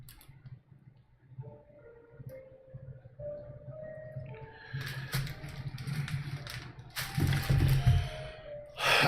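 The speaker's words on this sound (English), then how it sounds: "Let me just loosen this camera up here." Camera mount being loosened and adjusted at a painting setup, with creaking, ratcheting clicks and rubbing handling noises that grow busier and louder toward the end, close, with faint tonal whines underneath and no talking.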